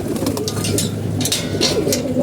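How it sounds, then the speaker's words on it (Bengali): Pigeons cooing in a village yard at feeding time, a steady run of low, throaty coos close by with faint higher bird calls mixed in. "আর এদিকে কবুতর বসে আছে"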